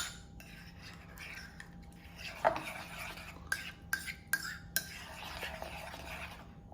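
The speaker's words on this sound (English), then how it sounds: "So if you add a little bit of cinnamon in there, just mix it all up." A spoon stirring cinnamon into food in a metal pot outdoors, with soft scraping and several distinct clinks against the pot rim, faint and close, over low background noise.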